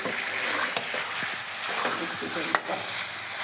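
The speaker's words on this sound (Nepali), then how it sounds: "रक्ती पनि भुट्दाखेरि पड्किनु पऱ्यो" Pork blood (rakti) frying in a pan, a close steady sizzle with a couple of sharp crackling pops and a spoon stirring through it.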